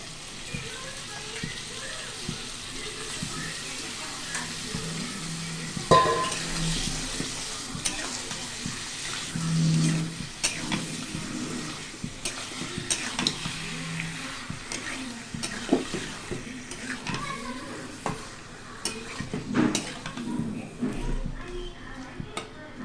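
Country chicken meat is stir-fried in hot oil for a curry, giving a steady, moderate sizzle with intermittent scraping and stirring clatter. A person speaks over it at times.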